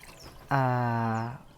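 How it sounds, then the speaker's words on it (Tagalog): Water pours into a jar holding pebbles for a homemade lemongrass oil lamp, a single steady stream lasting under a second with a rising gurgling tone, close and clear. "lagyan ito ng ating tubig"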